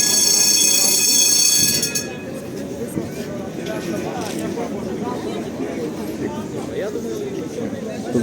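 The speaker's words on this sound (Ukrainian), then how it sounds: "трамвайчик, одиничка." A Lviv city tram on route 1 rolls along a street at night, its high wheel squeal ringing at first, then giving way to a steady rumble and clatter of the passing cars, with people talking nearby.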